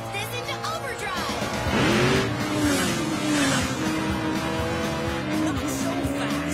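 A cartoon race car engine revving in a children's animated racing show, a sustained loud whine rising and bending in pitch with tire-squeal-like tones, over music and voices.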